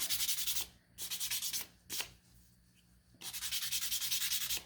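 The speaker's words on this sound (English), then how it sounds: "You'll probably have to sand that one just a little bit on both sides." Fine sandpaper rubbing back and forth on a small laundry sign piece, close and fairly loud, in several rhythmic bursts of quick strokes separated by short pauses.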